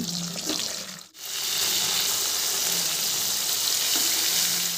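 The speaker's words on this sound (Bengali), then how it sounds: "এরপর বাকি মাছগুলোকেও ভেজে নিচ্ছি" Pieces of khoira fish frying in oil in a wok, a steady dense sizzle that runs throughout, with a brief dip near the start where it momentarily quiets.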